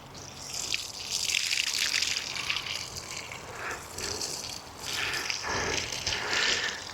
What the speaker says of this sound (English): And the last thing to do is just give it a water